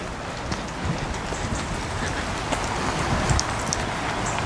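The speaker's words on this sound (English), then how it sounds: "It's quite sort of a fine misty rain" Fine misty rain falling outdoors on a walk around Derwent Water near Keswick, a soft continuous hiss with scattered light drip ticks, steady and fairly close, with no talking.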